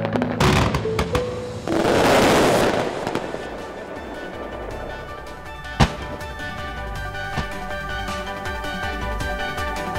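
Gunpowder explosions go off during an art performance, with a dense crackling cluster early on, a sharp single bang midway and lingering rumble, loud and moderately close.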